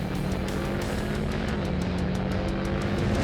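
A race car engine on a track roars continuously at high revs, loud and close, with a steady droning pitch and faint clicking over it.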